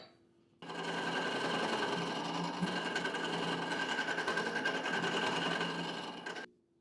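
A wooden tool handle is roughed round on a lathe, giving a loud continuous whirring and chattering of the cut that starts abruptly and stops after about six seconds, with no talk over it.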